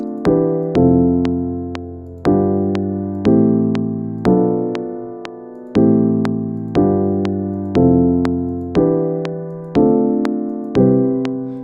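A slow progression of sustained piano seventh chords, each struck cleanly and left to ring and decay before the next, evenly paced with no voices.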